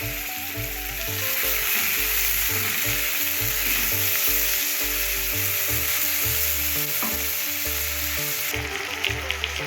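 Tomatoes sizzle in a pan of browned onions and country chicken, a steady loud frying hiss under a rhythmic low thumping that pulses throughout, with a brief scrape near the end.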